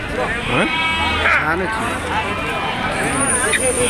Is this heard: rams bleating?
yes